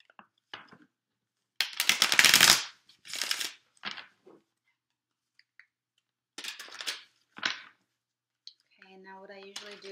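Tarot card deck being shuffled in several quick riffling bursts with short pauses between them, close and crisp, with faint talking at the end.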